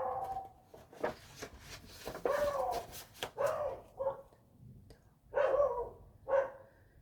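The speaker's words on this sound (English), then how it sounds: "you can still like hear a dog barking" A dog barks outdoors, muffled by closed apartment windows, in several separate bursts of barks and yips spread across the clip, faint and distant.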